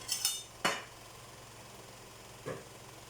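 Metal cutlery clinks against a plate at a home meal of ginataang kalabasa with sitaw and fried fish, a few sparse, faint taps with quiet pauses between them.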